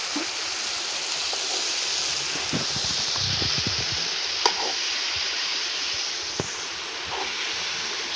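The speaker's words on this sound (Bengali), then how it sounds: "শাক সুন্দর করে মাছের সাথে মশলার সাথে নেড়ে মিশিয়ে দিতে হবে।" Red spinach being stirred together with rui fish pieces and fried spices in a hot pan, a steady soft sizzle with a few faint scraping clicks from the stirring, close and continuous with no talking.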